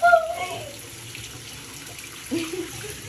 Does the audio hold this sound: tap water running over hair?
yes